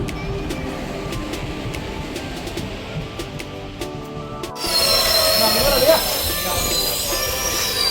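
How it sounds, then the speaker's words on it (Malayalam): A passenger train pulls into a railway station on a trip toward Guruvayur, its rumble swelling suddenly after a quieter platform stretch, with squealing wheels and a rising, steady roar. "നമ്മുടെ ട്രെയിൻ വന്നിട്ടുണ്ട് കേട്ടോ."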